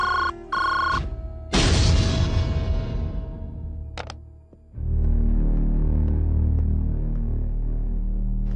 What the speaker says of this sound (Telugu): పద్మ, ఫోన్ చేసావా?